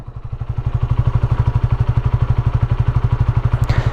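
A 2015 Honda CBR 125 R single-cylinder motorcycle engine idles close by, its rapid steady thumping pulse loud and even throughout.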